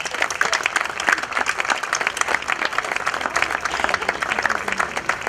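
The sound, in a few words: audience applause for a singer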